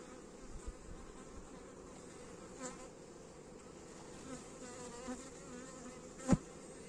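Carniolan honeybee workers hum steadily at an open hive in Mersin, a soft, even, continuous buzz close by with a few brief louder passes, no voices.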